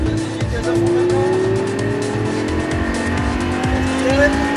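A Lamborghini LP560 at full throttle on the Frontange race circuit, engine note climbing steadily in pitch through a gear, loud and close from inside the car.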